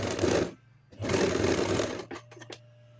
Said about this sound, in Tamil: ஸோ இது ரெண்டுத்தையும் உள்ளே வச்சு தைச்சி எடுத்துக்கோங்க